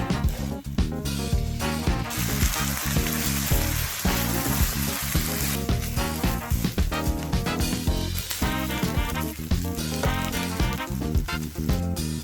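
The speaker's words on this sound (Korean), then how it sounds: "준비된 새우튀김을 넣고 볶다가 만들어 놓은 칠리 소스를 넣어 줄게요" Steady sizzling of battered fried shrimp stir-frying in a hot pan with garlic and chili sauce, continuous and close, with light clinks of stirring under a musical backing.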